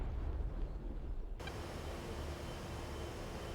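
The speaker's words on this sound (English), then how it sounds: "there's the secondary explosion starting to go off" A munition stockpile going up in secondary explosions after a bomb strike in the DCS A-10C flight sim, heard as a rumbling roar that swells into a broad, sustained wash of blast noise.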